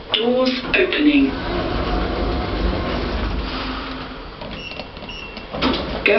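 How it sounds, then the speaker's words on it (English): Hospital lift doors slide open with a rolling rumble and clatter at close range, over a low cab hum, as an automated voice makes an announcement. "Doors opening."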